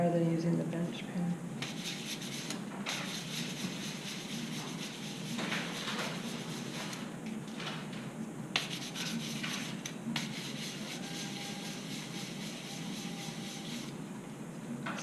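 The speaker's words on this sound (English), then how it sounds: "Sometimes I'll just hold it in my hand when I'm sanding rather than using the bench pen." A metal jewellery piece is hand-sanded while held in the hand rather than on a bench pin, giving a steady, close, continuous rubbing rasp with short pauses, under faint background noise.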